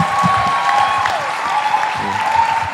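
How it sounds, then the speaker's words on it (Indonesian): Applause from a church youth audience, a loud continuous wash of clapping with voices faintly underneath. "Tepuk tangan."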